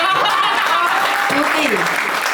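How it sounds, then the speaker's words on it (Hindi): An audience claps steadily and loudly throughout at a Hindi poetry recital, a dense continuous wash of applause with faint laughter mixed in. "कहो तो भाई सुग्रीव भैया की कविता सुना के तालियां बजवा दे।"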